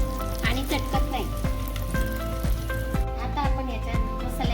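Onions and spices sizzle in hot oil for a tempering in a soybean biryani, with loud continuous frying and a repeated, rhythmic clatter of a utensil against the pan.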